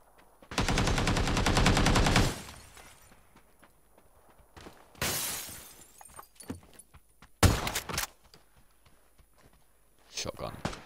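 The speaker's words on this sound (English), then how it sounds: "Shotgun." Gunfire from a shooter video game: a long rapid burst of shots, then several separate loud blasts spaced a few seconds apart, with quiet gaps and faint game noise between them.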